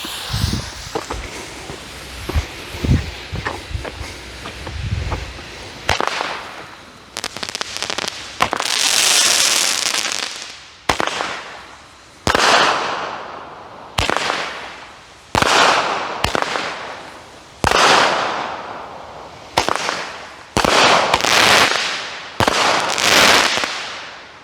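A small 200-gram Stardust consumer fireworks cake by Showtime fires in a riverside park at night. Repeated loud launches and bursts of comets and brocades are followed by long, hissing crackle tails, with brief pauses between shots.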